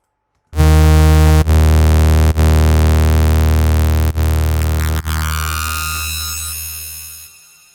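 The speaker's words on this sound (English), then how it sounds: "So it becomes this sort of weird metallic echo going, like some scratch of some metallic instrument." A synth bass with FM modulation and heavy reverb, giving a weird metallic, scratchy echo. One loud sustained tone swells in, carries a few brief dips, then decays slowly over several seconds with no voices.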